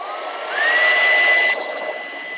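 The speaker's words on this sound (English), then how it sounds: "I would dry this with the heat gun" Heat gun used to dry paint, a close, loud blast of air with a motor whine that rises in pitch as it starts, holds for about a second, then drops back to a steady rush.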